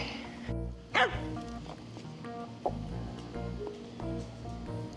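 Dogs give a sharp yelp and a few short barks and whimpers, fairly faint, over a busy background hum with clatter and some faint talking.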